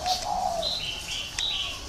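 A spotted dove coos close by in a short soft phrase of a few notes, clear over light background noise.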